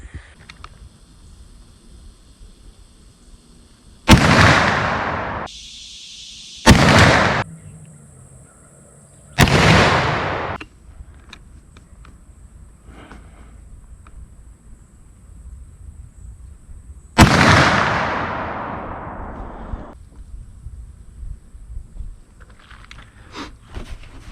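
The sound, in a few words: black powder rifle shots with Hornady bullets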